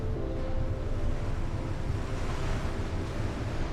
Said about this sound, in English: Even the sharks kind of bounce in the water because the waves are like way bigger.